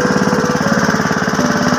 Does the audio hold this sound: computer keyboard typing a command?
no